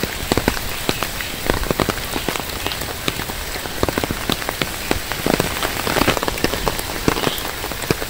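Heavy rain pours onto surfaces during a storm in a Bangladeshi village, a dense continuous patter with scattered sharper drop hits, loud and close with no voices.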